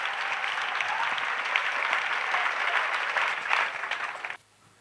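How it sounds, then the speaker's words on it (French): A church congregation claps together in a sustained, dense burst of applause that holds steady for about four seconds, then cuts off abruptly into near silence. "Clap offering to Jesus."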